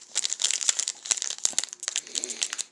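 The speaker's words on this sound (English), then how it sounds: "I'm getting ready to open up these 1999 Upper Deck Motorsports" A 1999 Upper Deck Motorsports race card pack is torn open, with close, crisp crinkling and tearing of the foil wrapper in quick irregular bursts.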